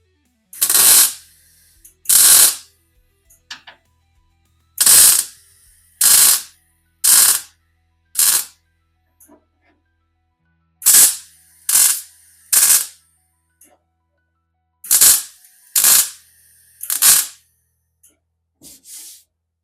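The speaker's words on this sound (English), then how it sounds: "I got the welder all set up. I'm going to get started." Arc welder tacking carpet hold-downs onto a Volkswagen Bug body during restoration: about fourteen short, loud, crackling bursts in uneven groups, with brief silences between, no talk.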